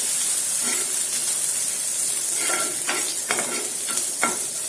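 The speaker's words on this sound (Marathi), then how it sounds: "आलं लसूण व्यवस्थित परतून घ्यायला हे ठेचलेलं आलं लसूण" Freshly crushed ginger and garlic sauté in a hot pan for a crispy bitter gourd dish, giving a steady sizzling hiss broken by several sharp scraping stirs, with no voices.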